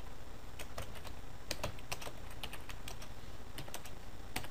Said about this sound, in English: type in our product name